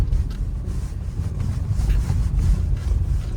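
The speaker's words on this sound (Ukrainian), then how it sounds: "Вона працює на холостому ходу." A steady low engine rumble from a car with a DC4 automatic gearbox idles continuously with faint wind noise over it, no talk, the motor holding an even, unchanging drone throughout.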